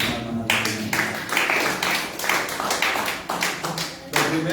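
A church congregation claps hands in praise during a Sunday service, a dense, steady patter of many palms striking together, loud and sustained throughout.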